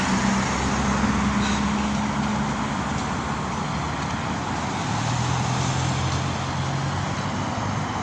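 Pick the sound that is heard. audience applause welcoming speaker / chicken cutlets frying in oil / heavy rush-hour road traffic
heavy rush-hour road traffic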